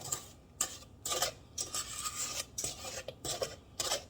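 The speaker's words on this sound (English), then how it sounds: "I'm going to scrape down my bowl." A spatula scraping down the inside of a stand mixer bowl while making a cinnamon streusel coffee cake batter, giving repeated short rasping strokes in bursts, close and fairly quiet, with no talking.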